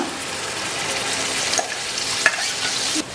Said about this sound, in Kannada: ಇವಾಗ ರುಬ್ಕೊಂಡಿರೋ ದ್ರಾಕ್ಷಿ ರಸನ ಸೇರಿಸ್ಕೊಂಬಿಡೋಣ